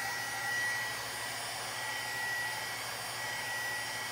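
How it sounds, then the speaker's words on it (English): A heat gun blows hot air over ink on a fabric pillow cover, giving a steady close hiss and whirring fan drone that holds even for a few seconds. "you want to keep the gun moving continuously at all times when you have it over the ink and the fabric as well"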